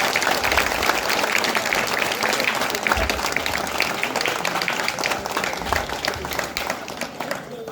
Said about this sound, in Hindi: एक बार जोर से ताली बजा दीजिए।